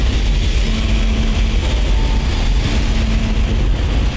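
Spaceship engines roaring in Dead Space, a loud, steady droning rumble with a low hum running continuously throughout, no talking.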